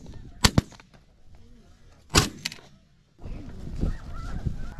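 Snow geese honk during a hunt, with sharp shotgun blasts nearby and a dense chorus of distant goose calls swelling in the last part.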